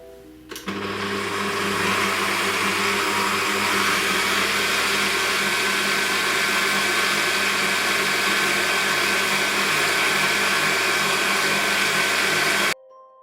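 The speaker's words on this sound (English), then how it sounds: "while my machine is stirring, I'm just going to add in my sugar gradually and just whisk and whisk and whisk until I have a delicious meringue" An electric mixer whisks meringue as sugar is added gradually, a loud, steady motor whir with a busy high hiss that holds unbroken for about twelve seconds before cutting off sharply.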